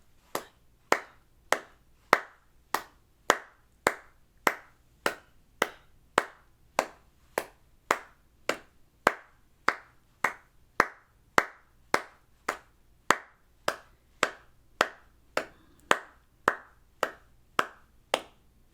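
A single pair of hands clapping a steady beat, about one clap every two thirds of a second, close and crisp, alone with no flute or talk, during flute practice from a Standard of Excellence book.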